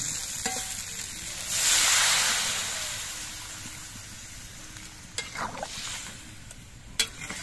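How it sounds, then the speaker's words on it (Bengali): Broth poured into spiced vegetables with potatoes and drumstick stalks frying in a pan sets off a loud surge of hissing sizzle that slowly settles into a steady simmering crackle, with a few small clinks and no voices. "এবার এর মধ্যে আমি ঝোল দিয়ে দিচ্ছি।"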